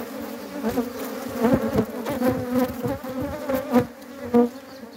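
Honey bees buzz around a beehive at close range, their wingbeat drone rising and falling as individual insects pass near and away, with a few louder swells and no talk.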